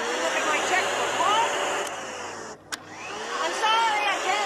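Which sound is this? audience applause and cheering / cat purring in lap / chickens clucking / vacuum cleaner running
vacuum cleaner running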